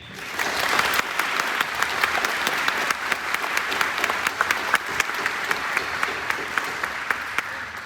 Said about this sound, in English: join me in giving a round of applause for all those who served and have served, the members of the armed forces and veterans who are with us today